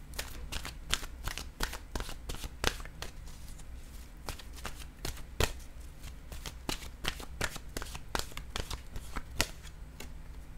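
Tarot cards being shuffled by hand, a rapid series of close crisp riffles and slaps in an irregular rhythm, repeated over and over with brief pauses between.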